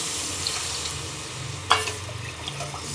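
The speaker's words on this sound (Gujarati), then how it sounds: "ચાલો એમાં આપણે છાશ નાખી દઈએ." Buttermilk is poured into a pan of cooked onions, giving a steady watery sizzle and gurgle that runs throughout. One brief clink is heard partway through, and no one speaks.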